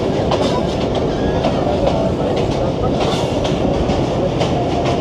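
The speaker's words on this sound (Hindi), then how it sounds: "दस बजकर 28 मिनट हो गए और ट्रेन हमारी पहुंच गई" A passenger train rolls into Baldher station, a well-maintained green station built in 1913 on the Rawalpindi to Havelian line. Loud, close wheel rumble and rhythmic clickety-clack carry on continuously, with faint squeals overhead.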